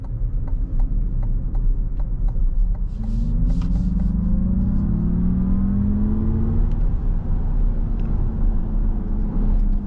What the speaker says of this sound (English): the all-wheel drive is definitely a lot quicker than the rear-wheel drive. When you just put your foot to the floor.